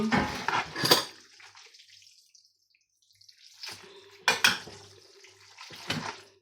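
Pasta being stirred with sauce in a pan, heard as bursts of scraping and clattering at the start and again near the end, with a quiet pause in between.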